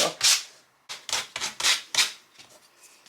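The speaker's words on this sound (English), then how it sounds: "I'm going to take my sandpaper and I'm going to kind of rough up my little saying here a little bit too" Sandpaper roughing up a Dollar Tree Halloween decoration, a series of short, raspy hand-sanding strokes in an uneven rhythm, close and alone.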